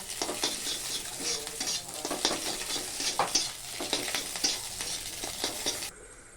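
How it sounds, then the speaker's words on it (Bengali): Eggs frying in hot oil in an old, long-used kadai for an egg tarka, a steady close sizzle with scraping stirs that crackles on for several seconds before cutting off abruptly. "কিন্তু আমি তো দেখছি তুমি ডিম ভাজছো।"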